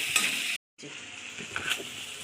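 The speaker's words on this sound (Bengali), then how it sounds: "গরম মশলা দিয়ে দিচ্ছি। মশলাটা একটু ভেজে নেব।" Garam masala frying in a pan while cooking masala baigan, a steady close sizzle with soft stirring scrapes, briefly cut to silence before the frying resumes.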